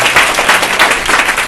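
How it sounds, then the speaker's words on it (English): Applause from a conference audience for a startup event's panel, a dense, steady patter of many hands clapping close by without a break. "Give a round of applause to the panelists first."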